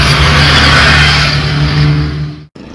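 Motorcycle passing close by, a loud, rough engine roar that holds steady, then fades and cuts off abruptly near the end.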